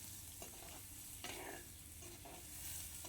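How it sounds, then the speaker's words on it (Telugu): Onion pieces frying in oil until golden brown, a faint steady sizzle heard close up with a few soft stirring scrapes and crackles and no voices. "ఈ ఉల్లిపాయ ముక్కలు కూడా మనం గోల్డ్ కలర్ వచ్చే వరకు బాగా, బ్రౌన్ కలర్ వచ్చే వరకు బాగా ఫ్రై చేసుకోవాలి"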